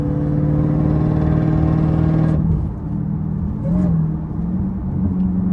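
707-horsepower Jeep Trackhawk on Miami city streets, its engine carrying a steady mid-pitched whine and hum that rises briefly under acceleration, heard close from inside the cabin, alone without talk.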